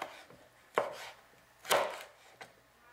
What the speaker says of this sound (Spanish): Voy a cortar el chile jalapeño.